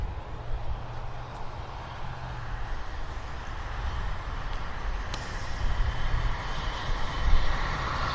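An airplane at Vancouver airport, its engine producing a steady, fairly loud broadband roar that swells toward the end as it passes nearby, with no talk over it.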